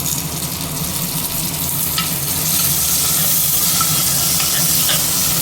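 Onions, garlic and chopped tomato sizzle steadily in a hot pan, a continuous close frying hiss with soft stirring scrapes throughout and no talking.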